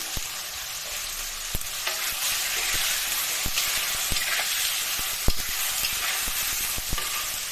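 Food fries in a pan in a home kitchen, giving a steady, bright sizzle throughout, with sharp clicks and taps of a utensil against the pan at irregular intervals.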